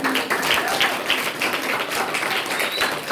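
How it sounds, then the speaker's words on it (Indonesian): An audience at a school student-council candidate debate applauds all the candidate pairs, a continuous, fairly loud wash of many hands clapping with faint voices mixed in. "Tepuk tangan untuk semua paslon"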